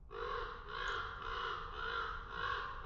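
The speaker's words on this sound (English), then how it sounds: "I'll tone down the crows a little bit" Crows caw repeatedly as a sound effect during a tabletop role-playing session, a steady series of harsh, overlapping calls that are loud and close, with no one talking over them.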